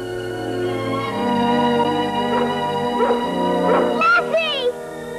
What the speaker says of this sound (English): One of the scenes in Lassie involves the actor being reunited with Lassie